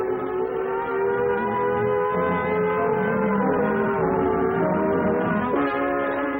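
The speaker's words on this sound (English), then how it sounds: "the alert will be a warbling siren blast," A civil defense air raid siren wails in a warbling tone, its pitch wavering and sliding continuously, loud and steady throughout with no other sounds over it.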